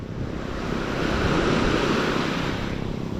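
A strong wave at a beach in Zambales swells and washes in, a broad rushing roar mixed with wind noise, with no voices.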